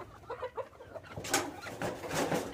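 Nearby chickens cluck in short, irregular bursts, with a few louder, sharper calls toward the end.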